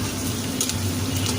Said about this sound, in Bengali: এখন আমরা চুলায় এলাচ দারচিনি দিয়ে পেঁয়াজগুলো আমরা হালকা বাদামি করে নেব।